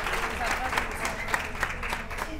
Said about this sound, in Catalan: ara sí, aplaudiments